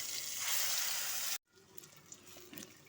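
Kidney bean paste, ground with green chilli and salt, goes into hot spice tempering with a loud, dense sizzling hiss that stops abruptly after about a second, leaving faint clinks and quiet kitchen sounds.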